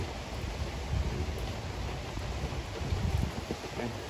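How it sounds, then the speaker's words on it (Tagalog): Steady rain falling outdoors on a garden terrace in Rome, a soft continuous hiss with light patter on surfaces, fairly close and unbroken. "Umuulan ng Rome."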